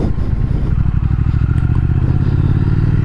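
A 2020 Triumph Speed Twin motorcycle engine throbs through its exhaust and muffler at low revs, a loud, close, steady pulsing rumble with a rough mechanical edge.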